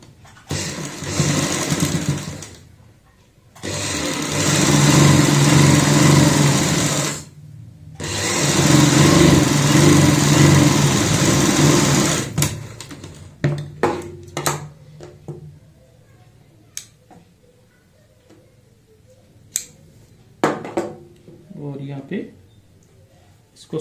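Sewing machine stitching a girl's party frock, running in two long steady whirring bursts, then stopping for short clicks and handling noises, with a voice speaking between the runs.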